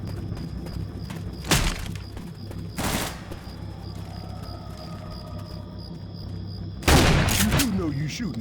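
Gunfire bursts from the Left 4 Dead 2 video game on the Swamp Fever campaign. Three loud volleys crack out at intervals over ongoing game ambience, with the last one the heaviest and most sustained.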